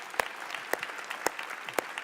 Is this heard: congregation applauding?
yes